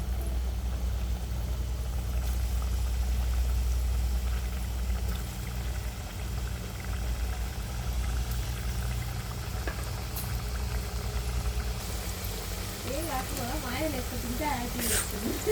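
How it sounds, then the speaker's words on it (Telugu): Rice flour chips dropped into hot oil and frying, a steady dense bubbling and sizzling that runs throughout at a constant loudness, with a voice speaking over it. "మనం ముందుగానే ప్రిపేర్ చేసుకున్న ఇవైతే ఆయిల్లోకి వేసుకొని ఫ్రై చేసుకోవాలి"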